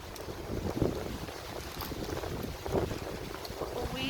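Gusty wind buffets the microphone on a Korean mountain, a rough, fluctuating rush with a few stronger bursts, fairly close and steady.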